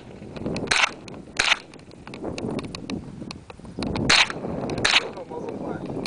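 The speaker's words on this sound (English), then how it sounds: "I got that HK91 with the 22 conversion kit. We're just going to show the muzzle flash" Several sharp near cracks of an HK91 rifle fitted with a .22 conversion kit firing at night, spaced irregularly, with faint voices and background noise between shots.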